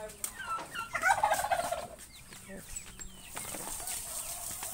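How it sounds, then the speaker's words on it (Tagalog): A flock of turkeys on a countryside farm in the Philippines gobbles in rapid, warbling bursts at moderate distance, the calls fading into quieter clucks and rustling while a person talks over them. "Yan, dami po nilang pabo."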